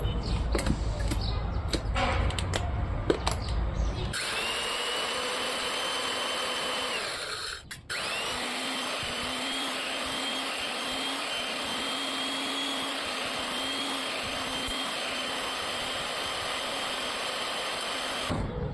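An electric grinder whirs loudly and steadily as it grinds spices for mahshi seasoning, after a few seconds of lighter clatter and handling noises. The motor drone holds constant apart from one brief dip.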